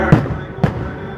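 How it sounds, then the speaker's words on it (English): Fireworks show at Magic Kingdom: two separate booming bursts about half a second apart, heard at a distance with some crowd ambience. "Same fireworks show as..."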